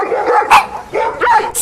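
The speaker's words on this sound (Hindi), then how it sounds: "तभी अचानक उसका सामना बड़े ही भयानक कुत्तों के झुंड से हुआ।" Pack of fierce dogs barking during a chase, several loud, close barks and yips in quick succession, with no talk.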